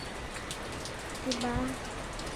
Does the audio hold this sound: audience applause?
no